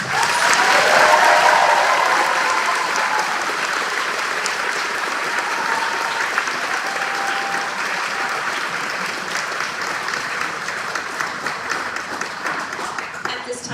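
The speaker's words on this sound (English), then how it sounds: "Please give them a round of applause." Sustained audience applause at an elementary school fourth grade celebration, loud at first and then settling into a steady, slightly thinner clapping that continues for over thirteen seconds.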